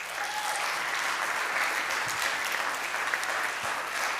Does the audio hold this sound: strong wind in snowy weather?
no